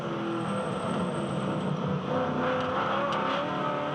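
A V8 Ute race car engine heard on board at the Adelaide Clipsal 500, its pitch rising and falling steadily as the throttle is worked up and down, loud and continuous.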